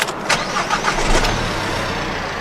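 A car running on diesel made from plastic starts up and runs with a loud, steady engine roar, close and continuous with no voices.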